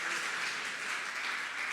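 A church congregation claps at a worship service, the applause steady and diffuse across the room, fairly soft and sustained without pause.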